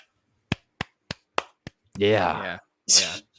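Five sharp hand claps in quick succession imitate the footstep sound of a video game character's sprint animation, followed by a burst of a voice and another short vocal sound.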